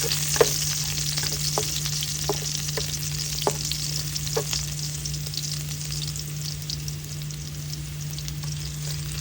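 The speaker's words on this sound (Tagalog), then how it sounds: "Ang una nating gagawin ay maggigisa lang tayo ng bawang." Garlic sautés in a pan for pork with broccoli, a steady bright sizzle with a few stirring clicks and scrapes, close and continuous over a low steady hum.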